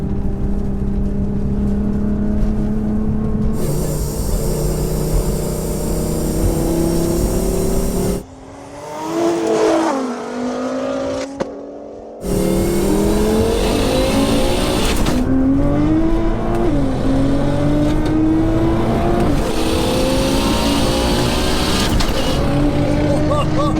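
A stage 4 Nissan R35 GTR and a 4WD Ford Focus RS drag racing: loud engines hold high revs, then rise and fall through gear changes after a brief quieter gap, with excited voices shouting over them.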